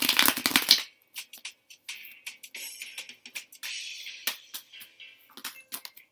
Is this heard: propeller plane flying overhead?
no